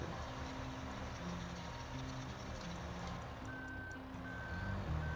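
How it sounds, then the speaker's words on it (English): A truck's reversing alarm in Farming Simulator 15 sounds a steady string of repeated electronic beeps, moderately loud over a constant engine drone, with no voices. "See if it keeps beeping."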